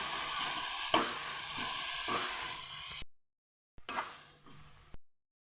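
Spices and vegetables sauté in hot oil in a pan, a steady close sizzle with a few stirring scrapes, cut by short pauses of silence.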